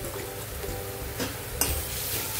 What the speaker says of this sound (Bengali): এটাও পেঁয়াজের মধ্যে দিয়ে একটু ভেজে নেবো ভালো করে।